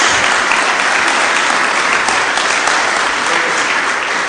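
A church congregation applauding during a service, loud and close, a thick unbroken roar of many hands clapping together for the whole stretch.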